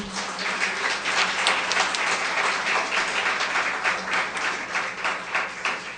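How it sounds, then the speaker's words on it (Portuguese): Members of a church congregation clap together in a sustained, even round of applause, moderately loud and continuous throughout, with no talking on top. "E você podia aplaudir ele por isso que ele vai fazer."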